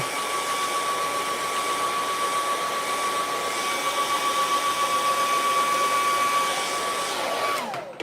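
A hair dryer blows steadily and loudly to dry acrylic paint on a rocky lake and moon landscape painting, a continuous whooshing hum with a faint whine that cuts off abruptly at the very end.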